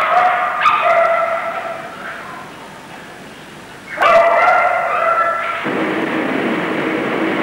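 A dog in a sad condition, with tubes draining fluid from its stomach, gives two bursts of high, wavering whimpering cries separated by a quieter gap, fairly close and loud against a hazy background.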